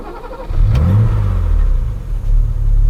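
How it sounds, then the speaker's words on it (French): A BMW M30 straight-six engine, a large competition-bred unit, revs up sharply with a loud, heavy, deep rumble that holds high, dips briefly, then surges again, heard up close with no talking. "C'est un gros moteur, c'est une très belle production de chez BMW, le moteur M30."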